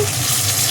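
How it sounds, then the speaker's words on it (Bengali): Fish frying in hot oil, a dense steady sizzle close up with no pauses over a brief moment. "আর এক প্লেট ভেজে নিলেই রেডি"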